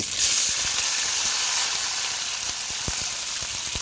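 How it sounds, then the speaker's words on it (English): Onions, seasonings and garlic fry in a pan, a steady close sizzle and hiss with faint stirring clicks and no talking. "I'm gonna fry up the onions, all the seasons, see? Garlic."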